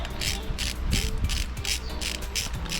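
Ratchet loosening an 8mm hex bolt on a Triumph Speed 400 motorcycle, a loud, steady, fast clicking close up through the whole stretch.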